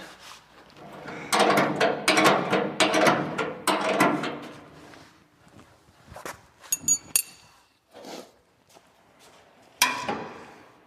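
Metal brackets being fitted and bolted to the rear bumper of a Porsche: bursts of clanking, rattling and ratcheting mechanical noise, close by, followed by a few sharp isolated clicks and knocks.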